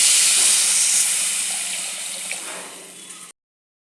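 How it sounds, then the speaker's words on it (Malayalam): Water poured into a pan of fried tomato masala, a loud rushing hiss and splash up close that slowly fades, then cuts off abruptly. "എല്ലാം മൂത്ത് വന്നിട്ടുണ്ട് നമുക്ക് വെള്ളം ഒഴിച്ചു"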